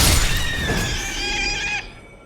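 Boar in the video game Elden Ring letting out a harsh, squealing grunt, a loud close cry that trails off after about two seconds.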